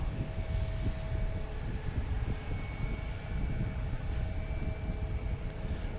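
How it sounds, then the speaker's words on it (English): An airliner rolling for takeoff on runway 15 right at Boston Logan Airport, a steady, broad engine roar with a low rumble that holds loud and even throughout. "15 right, clear for takeoff. It was on the roll."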